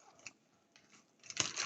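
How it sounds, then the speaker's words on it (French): Scissors cut paper during a scrapbooking session, giving a few faint snips at first and then a louder, crisper run of cutting near the end, close by and with no talk over it. "Ciseaux."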